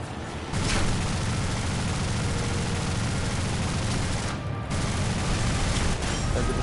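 Enemy gunfire in an aerial combat video game comes as a dense, continuous roar of rapid shots and rumbling blasts, loud and steady throughout with only a brief dip, and no talk.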